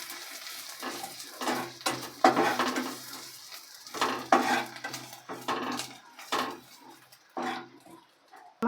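Spices stirred and fried in a pan, heard as a run of separate scraping, knocking strokes at an uneven rhythm, close and fairly loud, with only a faint sizzle between them.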